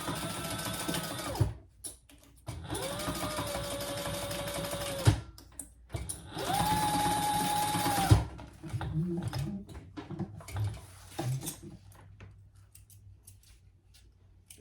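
Sewing machine top-stitching a leather waist pack, three steady whirring bursts of rapid stitching separated by short pauses, then quieter handling clicks and shuffles as the work is adjusted, close and alone.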